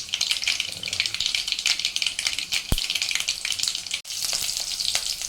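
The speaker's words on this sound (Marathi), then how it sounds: "आलं लसूण ते आता थोडी फ्राय करून घ्या" Crushed ginger and garlic fry in a pan for palak masoor sambar, producing a dense, steady crackling sizzle with stirring scrapes and one sharp clank, close and with no voices.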